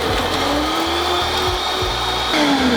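Blender motor running steadily on an Explorer 1000 V2 portable power station, a loud continuous whir with slight pitch shifts and a brief surge near the end, no voices.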